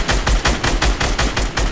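Rapid automatic gunfire in a shooter video game, a steady burst of about nine close, loud shots in even rhythm.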